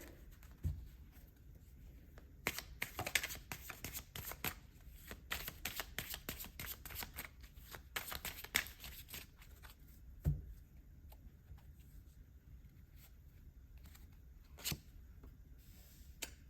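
Tarot cards shuffled by hand, with a long run of quick riffling and tapping bursts that sound close and soft, and no talking.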